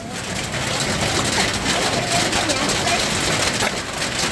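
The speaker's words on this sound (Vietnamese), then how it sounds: "Ơi mưa rồi." Steady rain falls outdoors as a dense, even hiss with no breaks.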